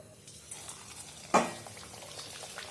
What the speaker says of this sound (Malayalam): ഈ എണ്ണയൊക്കെ നന്നായി ചൂടായി കഴിഞ്ഞു. ഇനി ഇതിലേക്ക് നമ്മൾ പരത്തി വെച്ചിരിക്കുന്ന ബോരികൾ ഇട്ട് കൊടുക്കാം.